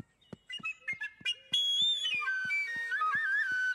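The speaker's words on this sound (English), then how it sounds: "My whistle." A toy whistle blown several times, starting with short separate toots and then giving way to a long, wavering shrill tone with bright overtones, close and loud.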